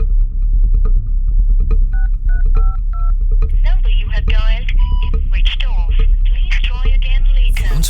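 Telephone keypad tones dialing a call, a short run of distinct beeps at an even pace over a low background rumble, followed by people talking.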